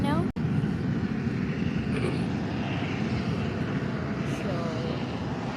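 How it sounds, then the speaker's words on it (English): A Condor Airbus A320neo airliner landing at Faro Airport in early morning, its broad jet engine roar steady and fairly loud throughout, with a brief dip near the start and faint higher whines drifting over the rumble. "Condor A320neo is just landing"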